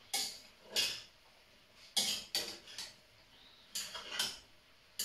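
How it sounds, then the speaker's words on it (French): A utensil gently stirs mushroom stroganoff in a pan, making a handful of bright, close scrapes and light clinks against the metal, separated by quiet pauses. "Maintenant, je remue gentiment"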